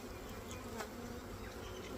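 Honey bees swarm over capped brood frames in an open hive box, their dense, steady buzz filling the air without a break for two seconds.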